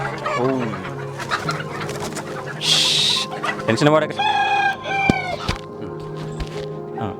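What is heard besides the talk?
country chickens clucking and rooster crowing on poultry farm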